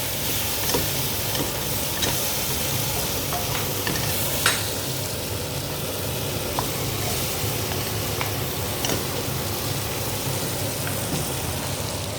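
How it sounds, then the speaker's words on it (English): Masala spices with amchur powder cook over a low flame in a pan, giving a steady soft sizzle and hiss with occasional faint scrapes from stirring, close and continuous. "Let the masalas cook."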